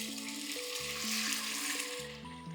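Mushroom broth and lemon juice poured into a hot pan for mushroom pasta, a loud, steady sizzle and bubbling hiss throughout, with background music playing underneath.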